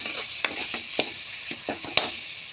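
Salted fish curry with potato being stirred in a pan: a spoon scrapes and taps in a loose rhythm of about seven strokes over a steady sizzle, close up, with no talking.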